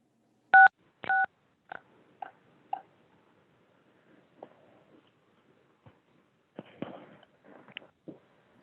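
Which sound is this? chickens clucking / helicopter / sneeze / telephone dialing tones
telephone dialing tones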